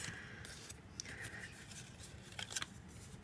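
Paper tabs of a poinsettia napkin ring being burnished, a few quiet, brief rubbing and scraping strokes close up, no talking.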